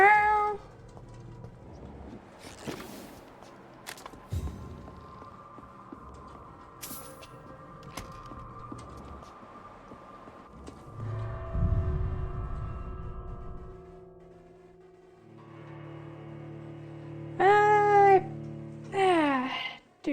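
A cat meows in a video game, several separate mews spread through the clip with a louder pair near the end, among sparse game sounds and background tones.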